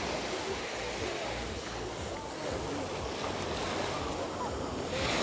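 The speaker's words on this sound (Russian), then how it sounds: "В другой раз как накроет волна." Sea waves wash and surge at Cleopatra Beach in Alanya, a steady close roar of surf with wind rumbling on the microphone.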